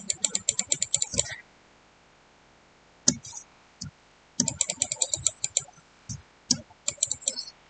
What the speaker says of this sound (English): Y'all gonna hear my clicking.